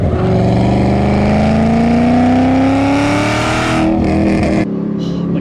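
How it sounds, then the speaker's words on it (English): A 5th-gen Chevrolet Camaro ZL1's supercharged engine accelerating hard, a loud rising whine climbing steadily over the deep engine roar for several seconds before easing off. "get a load of that supercharger whine"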